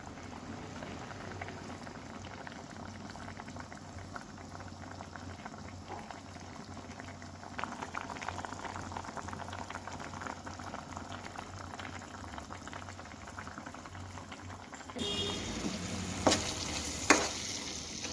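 Chicken gizzards bubbling in a pan, a steady continuous simmer with faint liquid churning, then turning into a brighter, louder frying sizzle with a couple of sharp spatula clinks toward the end.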